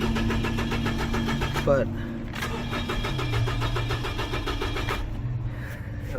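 A 2007 Nissan Frontier engine cranks without starting, the starter churning in a loud, steady rhythmic whir that pauses briefly and then resumes. Someone speaks briefly over it.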